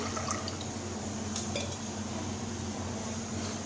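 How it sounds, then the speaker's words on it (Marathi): Water poured from a container into a metal pan, a soft steady splash over a constant low hum, with a few light clinks. "एक तांब्या पाणी टाकून घेते"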